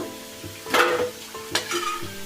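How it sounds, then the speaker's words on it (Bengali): Potatoes frying in hot oil until reddish-brown, with soft crackling sizzle and a few louder bursts of stirring and scraping in the pan, no voices. "আলুগুলো আমার লাল লাল করে ভাজা হয়ে গেছে"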